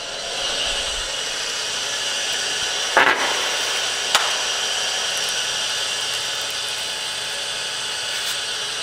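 A New Dimension Pyramid power slip roll, model 4-25, rolls 9 gauge sheet metal with a steady, even mechanical hum. A couple of sharp metallic clanks break through near the middle.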